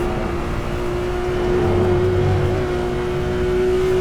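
A race car engine drones steadily at high revs in Assetto Corsa on the Spa-Francorchamps circuit. The tone is loud and continuous and shifts slightly as the car comes off the brakes and back on the throttle. No talking.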